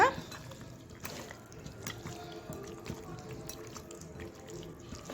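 Marinated chicken mixed by hand with curd makes quiet, wet squelching and dripping sounds, irregular and close, with faint background noise.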